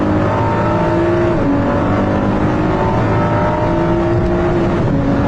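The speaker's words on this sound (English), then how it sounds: "let's come to a standstill again and enjoy a VMAX mode launch race start" A car launches from a standstill in VMAX mode for a race start, its engine screaming loud and close as revs climb through gear changes with little grip at the rear.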